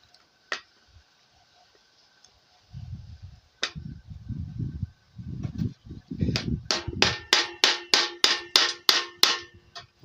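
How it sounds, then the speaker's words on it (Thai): Plastic bottle neck being hammered into PVC pipe: a burst of sharp, ringing hammer blows, roughly a dozen strikes speeding into a steady rhythm, with softer shuffling thumps between them. "ตอกเข้าไปเลยนะครับ"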